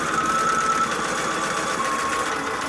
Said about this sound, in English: right sides together, and let's sew again